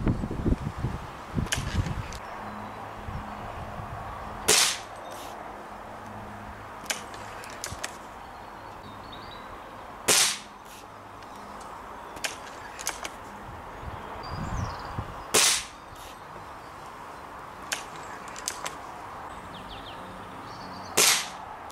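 BSA Hornet spring air rifle fired while plinking in a garden, four sharp, loud cracks spaced several seconds apart, with quieter clicks and outdoor ambience between shots.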